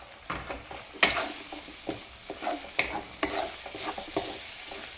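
Black masala sautéed in a pan for a rustic brinjal curry, a steady sizzle broken by repeated scraping stirs, close and fairly loud, with no voices.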